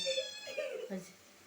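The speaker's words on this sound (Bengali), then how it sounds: "ম্যাও ম্যাও করতেছে" A cat lets out a drawn-out, wavering meow, fairly faint, with a voice briefly audible nearby.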